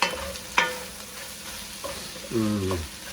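Spicy Italian sausage and vegetables tossed in a hot pan, a few short scraping stirs and a clatter over a steady low sizzle, close and moderately loud.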